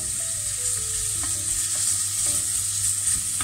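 Leftover food, onions among it, melts and sizzles in a pan, a steady close hiss of frying with faint stirring clicks.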